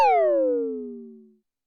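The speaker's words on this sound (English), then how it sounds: "Then we've got the 2 oscillators mixed with a sweep." A single drum hit from a Behringer Syncussion SY-1 drum synth, two oscillators mixed with a pitch sweep, both tones sweeping downward as it decays, fading out over about a second and a half.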